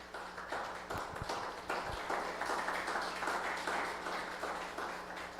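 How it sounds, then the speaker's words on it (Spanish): A church congregation applauding during a Spanish-language service, a full, even wash of many hands clapping that holds steady from start to finish, moderately loud, with a low steady hum underneath. "Den un aplauso al Señor."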